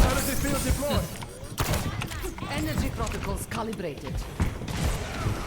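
Rapid gunfire bursts and sharp weapon shots during an Overwatch 2 match, loud and close, overlapping with excited voices talking over the action.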